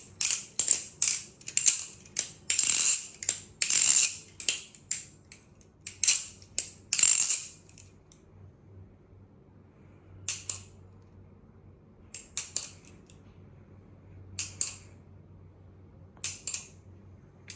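A balisong butterfly knife being flipped gives rapid metallic clicking and clacking in dense bursts for several seconds, then sparser single clicks spaced out, close up with no talking.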